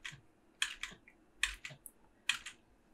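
Left arrow key on a computer keyboard pressed repeatedly, several crisp close clicks spaced about a second apart, each with a soft double tap, quiet with no talking.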